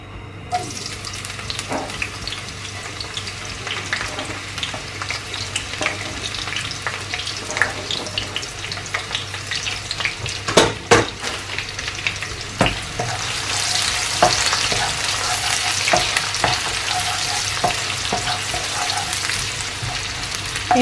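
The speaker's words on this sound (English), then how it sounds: "You're just gonna let that fry for about a minute." Onions fry in palm oil in a wok for Nigerian efo riro, a loud continuous sizzle close up with scattered stirring clicks that build to a fuller hiss toward the end.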